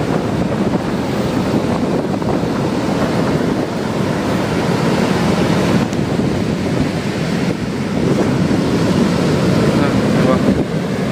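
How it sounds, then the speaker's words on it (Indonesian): Big waves breaking at sea in the North Sea, a continuous loud roar of surf mixed with wind buffeting the microphone and a possible boat engine underneath, steady throughout with no clear individual crashes. "Lihat tuh ombaknya gede tuh."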